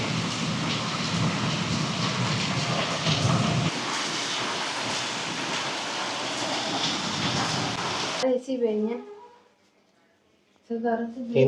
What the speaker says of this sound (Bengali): আকাশ অন্ধকার, প্রচন্ড বৃষ্টি।